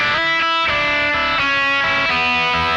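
A harsh, bright distorted electric guitar tone played through a Kemper Profiler with the cabinet setting at maximum, strummed chords ringing loud and dense with no voice.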